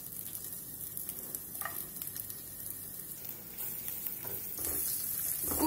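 Sliced onions fry in hot oil in a pan, a soft continuous sizzle broken by occasional stirring scrapes and clinks, growing slightly louder toward the end, close and without voices.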